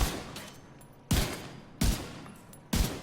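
M1A rifle shots in The Division 2, a few loud booming reports spaced unevenly under a steady background hiss of game ambience, with no speech.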